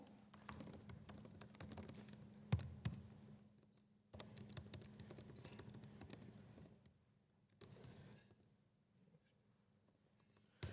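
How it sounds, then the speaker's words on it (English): Typing on a small Mac keyboard during a programming lecture, a steady patter of quiet key clicks through most of the stretch with a few louder taps and short pauses, faint against room hum. "This Mac keyboard is too small."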